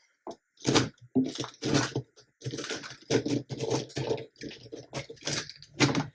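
An erasable pen's eraser tip scrubs writing off a paper planner page in a quick series of close, scratchy rubbing strokes, with short pauses between bursts and no voices.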